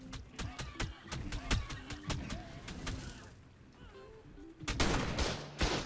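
Turret gunfire in the video game ARK during a PvP cave raid, rapid sharp shots in bursts, fairly quiet, pausing briefly before a denser volley near the end.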